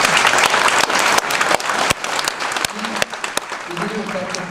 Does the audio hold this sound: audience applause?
yes